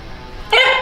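A tiny Shiba Inu gives a single sharp, loud bark close by, preceded by a moment of quiet room tone.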